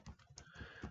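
A short, quiet burst of several rapid key taps on a computer keyboard, entering a web address, close and soft with no voice.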